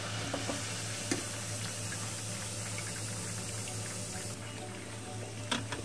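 Eggless rose cookies fry in hot oil in a home kitchen, giving a steady, soft sizzle with faint clinks and stirring, nearby and continuous, with no talking.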